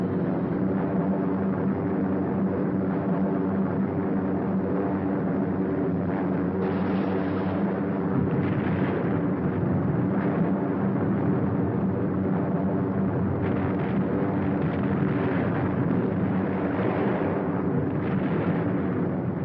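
Bombs exploding on a German target during a 1943 B-17 Flying Fortress raid, heard as a continuous, loud, rumbling roar with rolling swells of blasts, and no voices over it.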